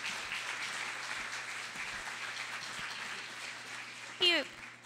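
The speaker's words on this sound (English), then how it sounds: "Please join me with a round of applause" Soft, fairly distant applause from an audience at a school community information night carries on steadily, then a brief voice cuts in near the end.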